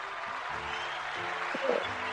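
A group claps steadily in the background while a voice talks over it during a discussion about cheating.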